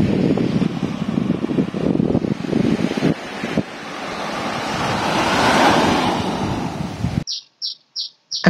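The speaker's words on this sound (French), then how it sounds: "Je commence aujourd'hui par la plage de Chawen Noi." Surf rolling onto Chaweng Noi beach on Koh Samui, a steady loud wash of waves with wind buffeting the microphone for about seven seconds, then a quieter stretch with repeated short bird chirps.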